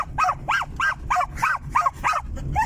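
A German jagdterrier barks from inside a car in a rapid run of eight sharp, close yaps at an even pace, with faint engine rumble beneath.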